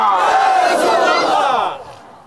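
A large crowd at a religious sermon gathering loudly chants slogans in unison, a dense roaring swell of voices that fades off near the end.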